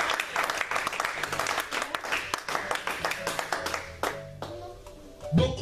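A church congregation claps and applauds through a sermon, a dense patter of hand claps that thins toward the end, with a preacher's voice and some music mixed underneath.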